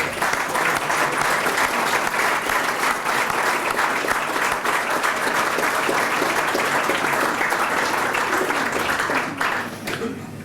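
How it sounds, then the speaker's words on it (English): A corporate audience at a PepsiCo West Europe and South Africa event gives sustained, full-room applause for about ten seconds, even and unbroken before easing slightly at the end. "join me in thanking Melanie and applauding her for those past 9 years."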